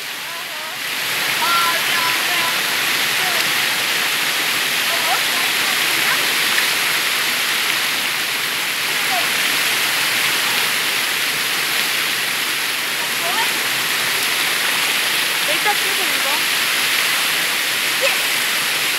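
River rapids at Bilac rush in a dense, steady roar of churning water, loud and continuous, with a few faint voices under the flow.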